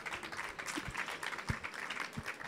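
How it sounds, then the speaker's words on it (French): Faint audience applause at a live podcast show, a soft, even patter of many hands clapping at a distance for a couple of seconds. "on peut les applaudir s'il vous plaît"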